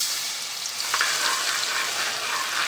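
Fenugreek seeds and garlic frying in hot oil, a steady close sizzle and hiss with light stirring scrapes and a few crackles, even in loudness from start to end.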